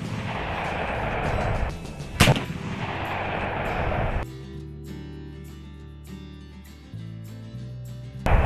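AEA Zeus .72 caliber air rifle, filled to 4,500 PSI, fires a 218-grain 3D-printed spike projectile at a target: a single sharp, loud crack near the start, followed by quieter mechanical ringing and background noise, with no voices.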